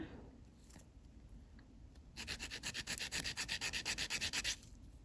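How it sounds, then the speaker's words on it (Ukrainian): An acrylic nail extension on an upper form being filed with a nail file: after a quiet start, a close rhythmic series of fast rasping strokes runs for a couple of seconds and then stops. "тому її потрібно трошечки підпиляти. Пиляю ось цією стороною."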